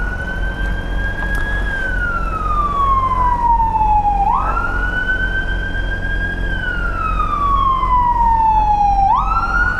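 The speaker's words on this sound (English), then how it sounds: "Ambulance, wow." Ambulance siren heard from a motorcycle on the road, a loud, close wail sweeping slowly up and down in long repeated cycles over a low rumble of traffic and wind.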